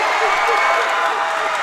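Basketball crowd at a Colonial League boys championship game between Saucon Valley and Notre Dame, a steady, loud wash of cheering and noise filling the gym under a commentator's voice.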